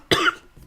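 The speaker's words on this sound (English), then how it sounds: "I just got done coughing" A single harsh cough, close and loud, with a faint breathy trailing sound after it.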